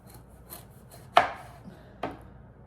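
A kitchen knife cuts into a squash on a board, giving a few soft taps and then two sharp, crisp chops about a second apart, close up with no talking.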